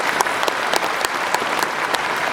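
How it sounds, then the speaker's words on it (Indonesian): Steady audience applause with dense, overlapping clapping from a crowd attending a religious talk in South Korea, loud and continuous throughout. "Tepuk tangan dulu buat panitia."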